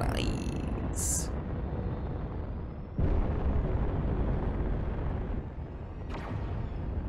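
Turret fire and bombardment in Space Engineers, a continuous rumbling barrage with sudden heavy explosive impacts at intervals, loud and dense with sharp bursts cutting in.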